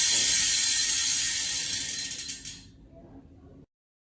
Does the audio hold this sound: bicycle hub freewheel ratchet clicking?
yes